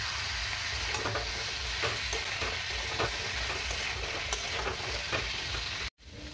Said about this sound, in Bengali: সামান্য হলুদ গুঁড়ো আর সামান্য একটু নুন দিয়ে আলুগুলো ভেজে নেব।